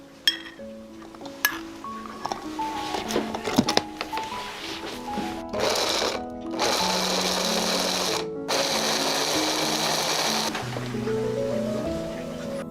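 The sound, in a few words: grinder blending soaked dried shrimp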